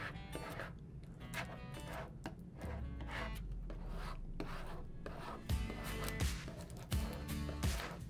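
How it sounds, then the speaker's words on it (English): Plastic squeegee scraping and rubbing firmly over EasyPSV vinyl transfer tape, a close, dry rasping in repeated strokes with a few light taps between passes. "you want to take your squeegee and apply"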